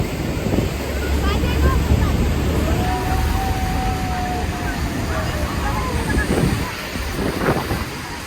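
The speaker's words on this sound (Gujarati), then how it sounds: "બાપ રે, જોરદાર પવન અને વાછરોટ" Strong wind buffets the microphone on a boat ride at Niagara Falls, a loud, steady roar with rushing spray and water noise throughout, and faint voices briefly rising through it.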